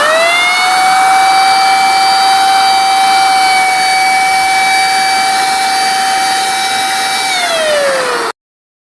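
A paint spray machine sprays yellow primer onto an old bed frame with a loud, continuous high-pitched motor whine and hiss that dips slightly in pitch near the end before cutting off abruptly.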